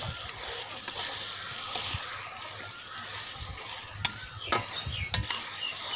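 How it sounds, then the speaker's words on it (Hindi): Chicken being stirred with spices and turmeric in a pan, giving a soft continuous sizzle with scraping and stirring, then a few sharp utensil clacks against the pan near the end. "मेरे प्यारे दोस्तों, अब हम इनको मिक्स कर लेंगे।"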